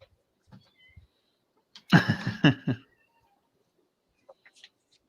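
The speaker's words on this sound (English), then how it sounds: "Oh no, here comes the cat to ruin the show." A cat indoors gives one close, drawn-out meow lasting under a second, with faint scattered knocks and rustles before and after in an otherwise quiet room.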